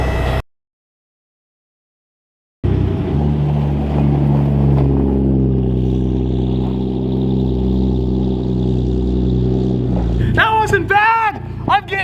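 A Toyota Supra with about 78,000 miles pulls hard from a near-silent start, its engine climbing in a loud, steady roar through the gears before easing off, with a brief burst of voices at the end.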